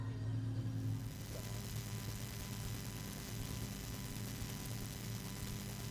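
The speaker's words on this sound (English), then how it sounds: "You still hear the car running on the infield of car 80 of Chopping" Super Stocker race car idling on the infield at Rockhampton Speedway, running rough, heard as a steady low engine hum at a distance with a faint drop in level after the first second.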